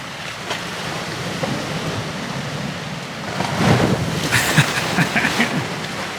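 Ocean waves roll onto a beach in a steady, broad roar, swelling louder midway as surf breaks close by, with wind buffeting the microphone.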